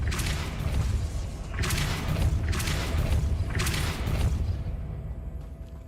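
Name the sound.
Depulso spell effect in Hogwarts Legacy video game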